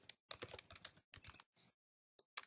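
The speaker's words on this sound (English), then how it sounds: "it's as easy as just start typing in your discipline" Quick bursts of keystrokes on a computer keyboard, close and crisp, come in several rapid clusters separated by short silences, ending with a single sharp tap.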